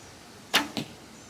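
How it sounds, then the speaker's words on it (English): An arrow loosed from a Stalker Wolverine FXT bow at a target: a sharp, close string snap followed a quarter second later by a second, softer thump, a single shot heard alone in quiet surroundings. "I just want to shoot the bow to get acclimated to it"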